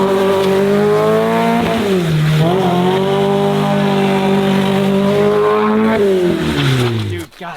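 A smoking car's engine runs loud and steady, its harmonic drone rising and falling in pitch as it revs, with a brief squeal-like sweep near the end before it cuts off.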